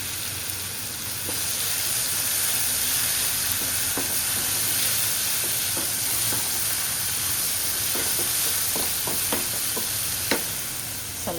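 Masala paste fries in a pan for a fish curry, giving a steady, loud hiss with occasional scraping clicks from stirring, close by and with no voices.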